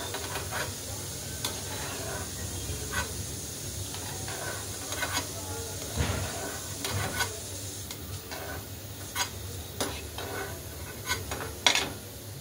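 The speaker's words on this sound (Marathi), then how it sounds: "फुटाण्याची डाळ पण अशी लाल होसतर तळून घेऊया।" Split roasted chickpea dal frying in hot oil for poha chivda, a steady soft sizzle and hiss punctuated by occasional clicks and scrapes of the spoon, close up with no talk.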